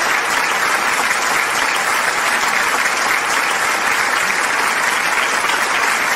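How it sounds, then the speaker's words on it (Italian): Steady, dense applause from a studio audience on an Italian television show, continuous and loud for the whole stretch with no voices rising above it. "Grazie per l'applauso"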